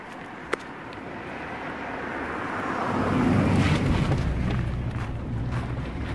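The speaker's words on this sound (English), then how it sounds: "Is there a car back there?" A car passes in the background, a broad rumble with wind-like noise that builds gradually and then holds steady, heard alone at moderate distance after a brief sharp tick early on.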